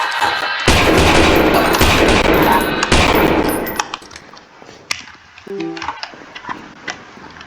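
Gunfire in the sewer finale of the horror game Lost in Vivo: a dense, loud burst of rapid shots for about four seconds, then quieter scattered impacts and clanks trailing off.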